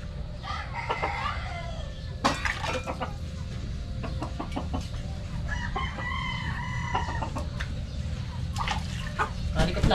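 Several chickens cluck repeatedly nearby, and a rooster crows in the middle, amid scattered rustling and faint background voices.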